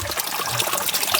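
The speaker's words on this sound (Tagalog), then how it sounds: "Tubig oh." Spring water trickles steadily from a hose beside a mountain trail, a continuous close, bright splashing dribble that runs alone without pause.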